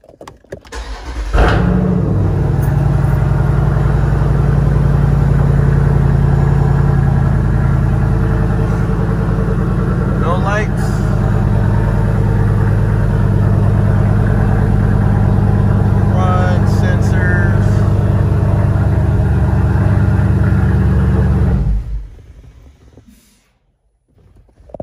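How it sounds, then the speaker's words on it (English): A Dodge Durango with the 392 engine, fitted with a Proflex Commander kit and running E85, cranks and fires up, then settles into a loud, steady, deep idle that holds for about twenty seconds before cutting off. "I am going to turn the car on, make sure there's no check engine light or anything like that"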